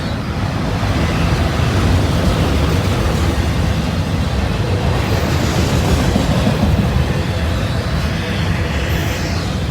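Brand-new locomotives rolling past on rails, a loud, steady rumble with continuous wheel and track noise close by throughout, no voices.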